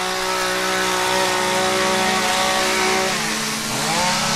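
A string trimmer trimming grass around small caps on a lawn, running with a loud, steady buzzing drone that dips briefly near the end, close by and alone without talking.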